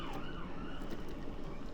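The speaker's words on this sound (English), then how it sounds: "Sirens going past." A wailing siren sweeps up and down over steady traffic rumble in Birmingham, loud and continuous, passing nearby.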